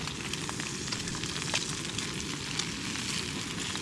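Breakfast sizzles steadily in an overheated pan at a hammock campsite, a dense, continuous crackle with faint pops, close and alone.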